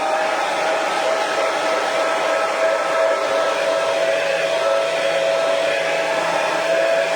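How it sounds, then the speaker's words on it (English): A hair dryer blowing hot air in close-up, a loud continuous whooshing roar with a steady motor whine, unbroken throughout and heard alone with no talk. "So just excuse me with the dryer."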